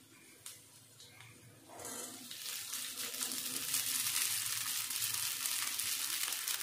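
Soaked sago pearls stir-fried in a pan with fried green chillies for a fasting dish give a soft, steady sizzle that swells and stays hissing throughout, with a few light scraping sounds.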